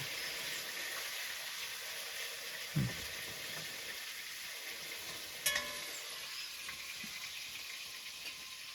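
Fish frying in a pan, a steady soft sizzle and hiss throughout, fairly faint and continuous with a couple of small clinks or pops, no talking.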